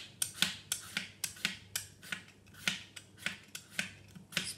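An apple's skin being shaved off with a handheld peeler, a steady run of about a dozen crisp, rasping strokes in an even rhythm, close and fairly quiet, with no talking.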